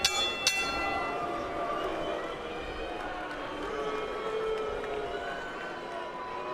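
Boxing round bell rung at a live pro fight between Giovanni Lorenzo and Raul Marquez, two sharp dings near the start ringing above a steady roar of arena crowd noise and commentary.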